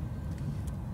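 A 2007 Chevy Impala with about 163,600 miles driving along the road, heard from inside as a steady low engine and road rumble with no talking.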